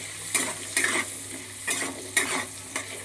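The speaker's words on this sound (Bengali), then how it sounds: "এবার আলুগুলো আমি লাল লাল করে একটু ভেজে নেব।" Potato pieces frying in a kadai until browned, a continuous sizzle broken by about five distinct stirring scrapes of a spatula at a slow, uneven rhythm, close and clear.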